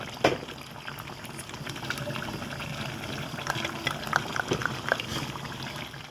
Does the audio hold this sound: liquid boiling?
yes